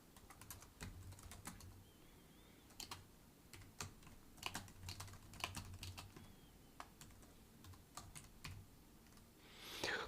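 Steady computer keyboard typing during live C++ coding of a Vulkan engine, close and fairly quiet, with irregular bursts of keystrokes and short pauses, ending in a louder flurry of key presses.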